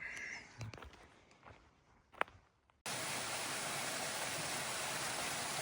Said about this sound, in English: I really want to get a picture of this waterfall